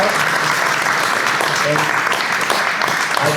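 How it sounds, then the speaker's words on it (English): Sustained audience applause fills the room at a steady, loud level, dense broadband clapping throughout with faint voices mixed underneath. "Let's give a big applause."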